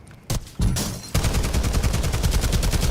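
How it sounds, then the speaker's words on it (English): Rapid gunfire in Warzone, a couple of loud single shots followed by a sustained automatic burst with a fast, even rhythm, close and dominant. "I keep hearing somebody taking shots"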